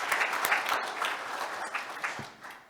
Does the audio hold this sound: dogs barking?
no